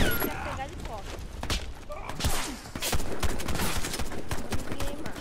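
Gunfire in the video game Warface crackles in dense, rapid bursts of shots over a busy, loud mix of game noise and a talking voice.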